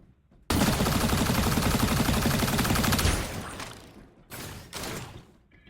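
Rapid automatic gunfire in the video game Strinova, loud and continuous for a few seconds, then trailing off into two shorter bursts.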